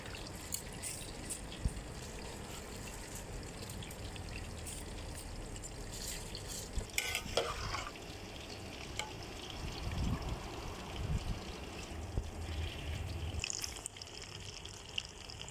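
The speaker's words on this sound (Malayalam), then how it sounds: "വെള്ളം ചൂടായിട്ടുണ്ട്, നെയ്ച്ചോറിനുള്ള റൈസ് ചേർത്ത് കൊടുക്കും." Rice for ghee rice goes into a pot of hot water, giving a close watery bubbling and sizzle with brief clattering splashes midway, no voices.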